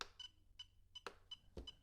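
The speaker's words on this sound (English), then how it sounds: "Now it's beeping" An RC transmitter emits a series of short, evenly spaced electronic beeps, about five or six in under two seconds, clear and close with no talking.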